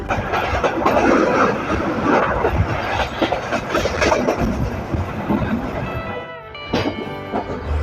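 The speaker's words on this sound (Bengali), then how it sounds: "আমাদের train number 728 down Rupsa express ট্রেনটি এখন যাত্রা বিরতি দিবে বিরামপুর রেলওয়ে স্টেশন" Rupsha Express passenger train runs on the rails with a dense rumbling rattle and clatter of carriages, easing near the end as a faint voice comes through.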